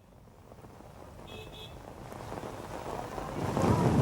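Steady rain pours over a street march in Raipur, a dense broadband hiss that builds from moderate to heavy over the few seconds, with no clear talk above it.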